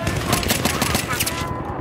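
Gunfire in the video game Battlefield 3, with dense, continuous bursts of shots close up that fill the whole moment at steady loudness and then cut off near the end.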